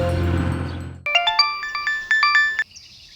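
Mobile phone ringtone in a crime drama scene: a bright electronic melody of repeated chiming tones sounds for about a second and a half after a loud noisy stretch cuts off, then stops abruptly.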